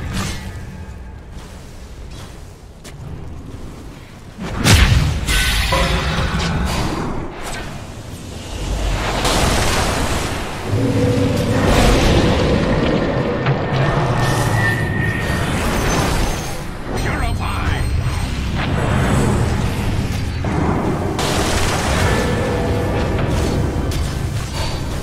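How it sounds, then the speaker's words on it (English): Dota 2 match in which a Radiant middle tower comes under attack and is destroyed, heard as a dense, continuous wash of game combat noise with repeated booming impacts and whooshes, a sharp heavy hit near the five-second mark, and loud layered battle sound throughout. "Radiant's middle tower is taking a drubbing!"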